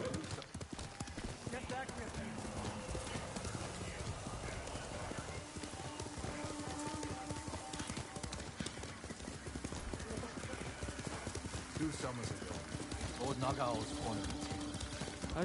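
Steady clip-clop of horse hooves trotting throughout in the video game Ghost of Tsushima, with a horse whinny near the end and voices talking over the busy game soundscape.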